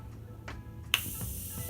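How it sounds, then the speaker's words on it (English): A quick spritz of makeup setting spray misted onto a face hisses once, sharp and close, after a few quiet clicks. "I'm gonna spray my face."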